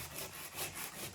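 Short rhythmic strokes of sandpaper rubbing over cracked paint and gaps during a salon renovation, a few close, raspy back-and-forth passes with no talking.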